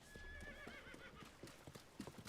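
Horse hooves clip-clop in a steady trot in Zelda: Tears of the Kingdom, with a clear neigh near the start, all close and moderately loud with no talk over it.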